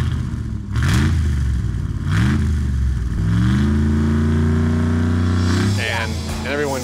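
Supercharged 575 hp Hemi V8 in the Ram TRX concept pickup truck revving, several rising throttle blips followed by a longer sustained climb in pitch, loud and close, with a voice speaking over it near the end.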